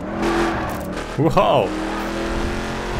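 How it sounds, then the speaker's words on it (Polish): Car engine in The Crew racing game revving up in a brief rising sweep over a steady engine drone, with a voice exclaiming at the same time. "Ale fajnie brzmi to auto."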